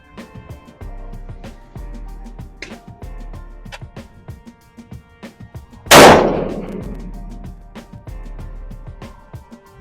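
A single loud 7mm-08 rifle shot rings out at load testing with a clamped rifle, a sharp blast with a long decaying tail, set among soft ticking and handling sounds.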